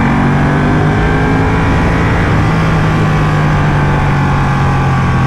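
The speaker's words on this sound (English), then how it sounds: "a lot of Ducatis, along with this 1199, has an L-twin engine. That makes it sound very bassy, sound very mean." A Ducati Panigale 1199S with an L-twin engine runs steadily and loud, a deep bassy drone that holds for the whole stretch with slight swells, no voices over it.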